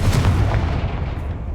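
A Confringo spell in Hogwarts Legacy goes off as a loud, heavy explosive boom that rumbles low and close, then slowly fades out with no voices over it.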